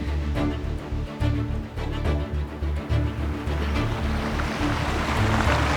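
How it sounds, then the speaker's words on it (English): Rushing water from mountain streams and tumbling waterfalls on a hiking route up Scafell Pike, a loud continuous roar with gusts of wind buffeting the microphone and no talking. "so many tumbling waterfalls too."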